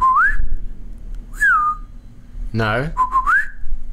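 A person whistles in a game-style imitation of the guard-distraction whistle from Splinter Cell: three short rising whistled notes spaced across a few seconds, close and clear, with a brief burst of other noise between the second and third.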